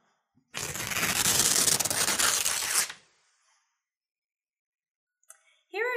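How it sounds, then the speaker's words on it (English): Paper is ripped in one continuous, close, crisp tear lasting about two seconds, followed by silence and then a brief voice. "The answer was paper ripping."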